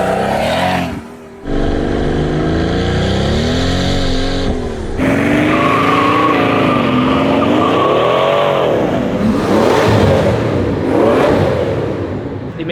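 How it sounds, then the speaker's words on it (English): A modified car engine, sounding like a Pagani Huayra, revs hard and loud at close range, pitch climbing and falling through repeated surges with a brief cutoff early and a sustained high whine, tires faintly squealing. "this sounds exactly like Randy's old Huayra."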